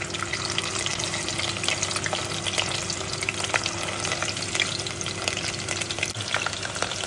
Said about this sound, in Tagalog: i-deep fry na natin yung ating potato taco